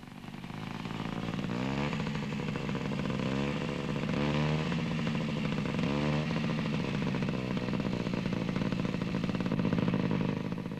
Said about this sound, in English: this Italian scooter is fitted with a specially designed dual control to make learning to ride safer on the